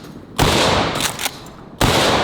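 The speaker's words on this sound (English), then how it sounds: "Let's try some double-up buckshot from the 12 gauge shotgun" A Mossberg Shockwave 12 gauge shotgun firing double-aught buckshot: two sharp, loud booms roughly one and a half seconds apart, each followed by a short roaring echo, close and with no voices.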